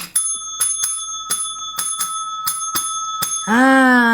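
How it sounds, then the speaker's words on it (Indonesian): A bright bell rings eight times in a quick, uneven series, each strike ringing out, followed by a sustained resonant tone at the end. "Mana lonceng kesenanganku guys ya."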